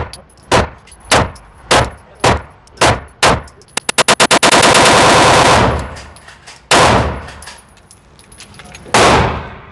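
A Canik pistol fitted with a Legion compensator fires ten rounds, first as single sharp cracks at a steady pace and then as a rapid string, each shot loud and close, followed by long ringing echo and one more shot.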